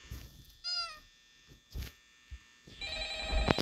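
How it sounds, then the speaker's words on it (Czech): A telephone rings in the Five Nights at Freddy's security office with bright electronic tones: a short warbling burst early on, then a sustained ring near the end, between dull thumps and knocks. "můžeš prosím tě přestat tady vyzvánět tím telefonem"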